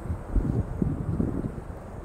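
Strong wind buffets the microphone near a flyover, a steady low rumbling roar with gusty swells that runs through the whole short stretch.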